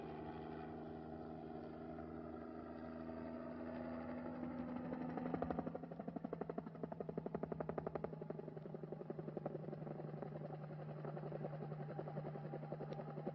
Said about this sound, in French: du haut de notre hélicoptère, qui survole actuellement la fameuse piste aérienne